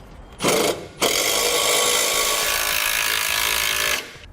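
A 9/16 socket drives U-bolts on a Firestone no-drill mount kit bracket for an air tank and compressor, with a short burst and then a steady, loud, close three-second whirring run that cuts off sharply.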